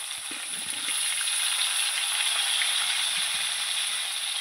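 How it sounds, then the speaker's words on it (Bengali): Chunks of elephant foot yam and potato fry in hot oil in a pan, giving a dense, continuous hissing sizzle that holds steady and close throughout, with a few faint knocks at the start. "ওল আর আলু একসঙ্গে আমি ভেজে নেবো লাল লাল করে।"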